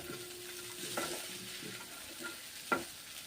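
A utensil stirs Maggi instant noodles with green chillies in a frying pan, giving soft scraping strokes and a few sharper knocks over a faint, steady sizzle, with no talking.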